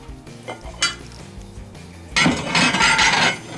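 Small monkey dishes, bowls and plates clatter and clink as they are handled during a kitchen organizing session, a few light taps early on followed by a louder, denser burst of ceramic rattling close by.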